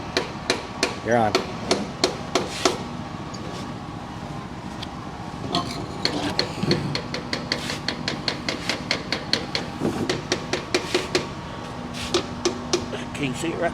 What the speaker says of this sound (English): Hammer again, Mike.